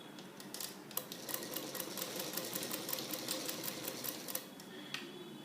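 A sewing machine stitches a 1/4-inch seam with a back stitch, its needle giving a fast, even rattling whir at low volume with brief pauses, and no talking.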